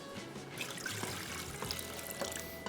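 Water pours into vinegar for a Turkish pickle brine, a faint, steady trickle with no talking.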